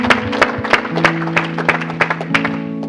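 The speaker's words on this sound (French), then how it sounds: "Acclame pour Jésus." Audience in a Christian gathering applauding for Jesus, rhythmic unison clapping at a brisk steady beat over sustained organ-like tones.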